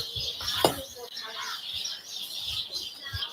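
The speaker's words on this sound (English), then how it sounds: "Listen to those birds" Birds chirp and call steadily in the background at night, around two or three in the morning, forming a continuous high chatter with low thumps and a brief louder burst near the start.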